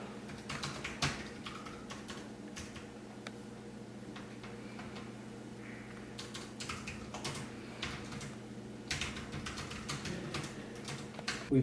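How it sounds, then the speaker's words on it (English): Steady typing on a computer keyboard in an office: a continuous run of quick, light clicks and taps at an uneven pace, close and alone, with a low electrical hum beneath. "I'm just showing you typing."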